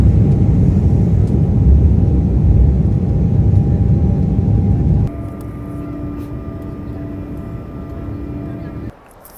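Loud, steady airplane engine roar from inside the cabin, a broad low rumble with a faint tonal hum that drops in level midway and fades out near the end.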